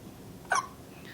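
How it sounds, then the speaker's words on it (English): One short, sharp hiccup pops out of quiet, close room tone, a single brief catch of breath. "Got the hiccups again."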